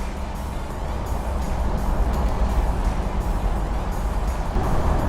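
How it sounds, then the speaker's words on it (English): A 1987 Bentley Continental Drophead drives over bumps in the street with a steady, smooth rumble of engine and road noise and no distinct clunks or knocks. "See, it's silent running over these bumps in the street."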